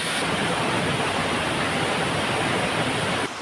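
A waterfall pours beside a hermit saint's hut deep in a forest, a steady, loud, close rushing roar holding constant throughout with no voices.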